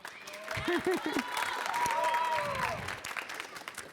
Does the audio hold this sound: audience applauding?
yes